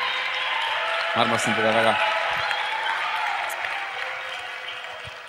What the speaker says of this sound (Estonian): väike aplaus talle